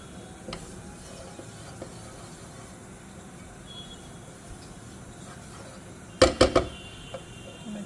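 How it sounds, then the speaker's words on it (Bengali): A modak mixture is stirred in ghee in a pan, giving a faint low sizzle with soft scraping, then a quick burst of three sharp clacks near the end. "একটু নাড়াতে থাকবেন যাতে ঘিতে এটা জমাট বেঁধে না যায়"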